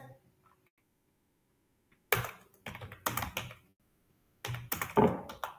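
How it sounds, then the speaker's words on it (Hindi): A computer keyboard clatters as key combinations are pressed, two quick clusters of sharp, close clicks and taps separated by a short silent pause. "फिर उसके बाद एक बार और एस दबा दिए, एल शिफ्ट एस दबा दिए"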